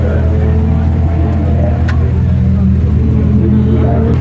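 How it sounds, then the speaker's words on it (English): Race cars rumble nearby as they drive into the paddock to refuel, a loud low engine drone running throughout, with people talking over it. "now everyone is driving in to refill their cars."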